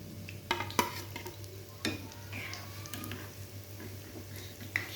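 Sweet snacks frying in oil in a pan, a soft continuous sizzle with scattered taps and scrapes of a utensil turning them, fairly quiet and close, with no talking.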